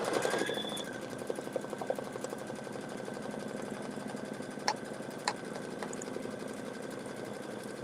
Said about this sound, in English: Guys, we are almost done stitching this.